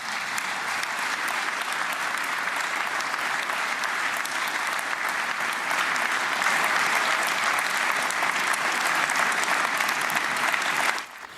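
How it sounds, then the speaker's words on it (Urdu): Sustained applause from a large audience after a line in a speech by President Trump about the return of Israeli hostages, a dense steady clapping roar lasting about eleven seconds and cutting off near the end. "سب سے طویل تالیاں اس وقت بجیں جب انہوں نے کہا کہ اسرائیلی یرغمالی واپس آ چکے ہیں"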